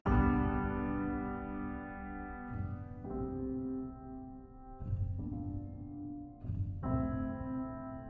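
Ambient piano from Reason's Radical Piano drenched in heavy cave-like reverb, sustained chords changing every second or so, each swelling into a long wet tail with no voices.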